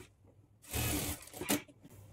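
A sewing machine stitches a blouse in one short, close burst of mechanical whirring that lasts about a second, then stops.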